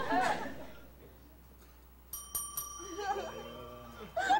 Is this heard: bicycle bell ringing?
yes